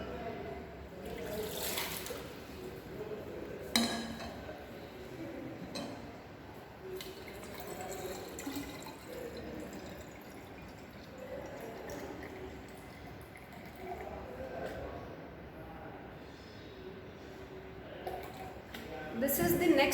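Water collected from a heat exchanger experiment is poured into a measuring vessel, faint trickling and dripping splashes spread over a long stretch, with a person talking intermittently and quiet room noise underneath.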